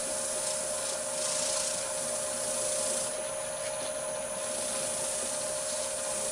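Close, steady hiss of sandpaper against spalted hackberry turning on a lathe, a constant even rubbing with a faint underlying tone and no pauses or talk.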